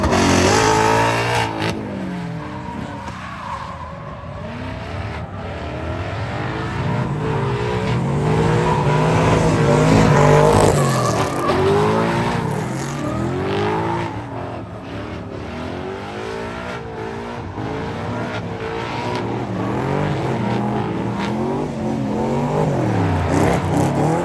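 A 2024 Ford Mustang Dark Horse drift car laps hard, its engine revving up and down in repeated surges with tire squeal mixed in, loud and close throughout.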